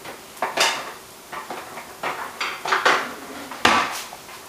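A wooden spoon stirs an almond flour crust mixed with beaten egg in a bowl. Close, irregular knocks and scrapes come in separate strokes over soft background noise.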